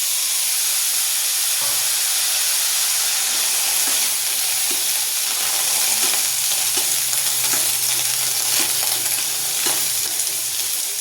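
Ridge gourd tipped into hot oil already tempered with mustard seeds, cumin and garlic for a Kathiyawadi curry, a loud continuous hiss and sizzle with scattered pops and spatula scrapes, close and steady, no one talking.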